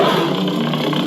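A Space Junk Sabers lightsaber fitted with a Scrapflex board and a 28mm bass speaker plays the Ninth Sister sound font, giving a steady, loud, close hum with a gritty, staticky texture and no talking.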